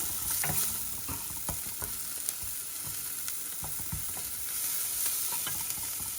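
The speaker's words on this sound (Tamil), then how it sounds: "வெங்காயம் ரொம்ப வதங்க வேண்டாம், லைட்டாக வதங்கினா போதும்" Onions sautéing lightly in a pan for a horse gram porridge recipe, a steady soft sizzle with occasional scrapes and taps of a stirring spoon, fairly quiet and without talk.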